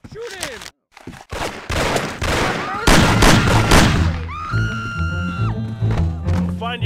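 Gunfire erupts in the Mafia video game, with rapid bursts of loud shots and booms in a noisy sequence, followed by ringing tonal game sounds.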